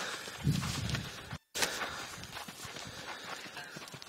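Horse hooves clop along at a slow walking pace, close by, with a brief dropout partway through and light background noise.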